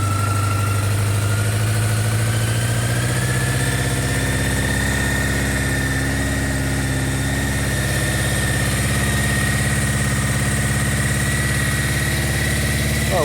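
A Honda CB650 / CB650SC Nighthawk motorcycle engine idles on its first start after a carburetor overhaul, a loud, steady close-up drone whose pitch rises slightly in the first few seconds, then holds even with no talking.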